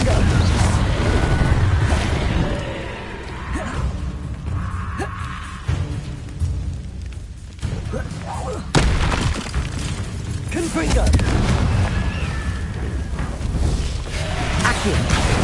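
Confringo and other spells cast in Hogwarts Legacy, a loud dense wash of blasts, crackles and bursts layered over continuous game music and effects, with a voice speaking over the action.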